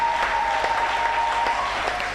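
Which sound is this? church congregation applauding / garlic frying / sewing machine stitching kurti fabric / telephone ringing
church congregation applauding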